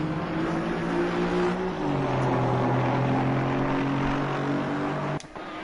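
Aston Martin GT4 race car in a racing sim at Zolder, a sustained droning engine tone shifting pitch as it accelerates and changes gear, loud and steady before cutting off near the end.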